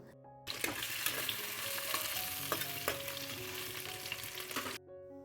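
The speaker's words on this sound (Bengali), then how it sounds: "এখন মাছ ভাজা বসিয়ে দিয়েছি" Fish, katla and parshe, frying in a pan in a home kitchen, a steady dense sizzle lasting several seconds with occasional clinks and stirring, close and fairly loud, no talk.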